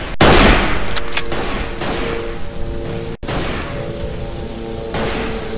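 Heavy gunfire in the WWI shooter Verdun on the Flanders map: a loud opening blast followed by a close, dense rattle of shots with brief gaps and renewed bursts.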